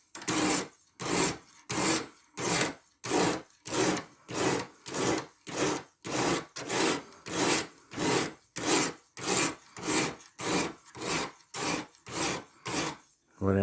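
Sitivien ST147 knife with 14c28n steel drawn across a 120 grit stone: about twenty regular, loud, close rasping strokes in a steady rhythm, each followed by a short pause, with no talk.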